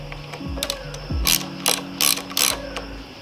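A ratchet wrench tightening a 10 mm bolt on an Indian Scout Bobber motorcycle lever, giving quick, close clicking runs in several short bursts with brief pauses between, no talk.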